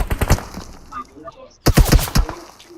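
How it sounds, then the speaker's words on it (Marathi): Rapid video game gunfire from a 3v3 shooter match, sprayed in two dense bursts of sharp shots separated by a short lull, loud and close, with players talking excitedly over it. "गोळी मारतोय भाई. स्प्रेनी"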